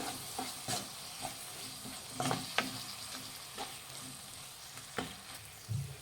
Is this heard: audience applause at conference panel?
no